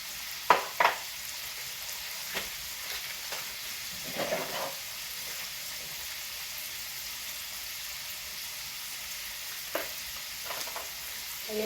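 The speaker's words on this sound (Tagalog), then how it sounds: "Ayan po, gisa-gisa lang po natin yung beef." Beef sautéing in a pan with oyster sauce, soy sauce and pepper, a low steady sizzle with a few sharp scraping stir clicks near the start and scattered utensil knocks throughout, close and fairly quiet.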